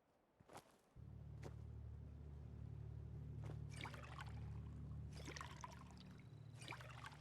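Water pours and trickles in Fallout 4, a steady close running stream that starts abruptly and carries on, with a few sharp clicks and some brief rustling bursts over it.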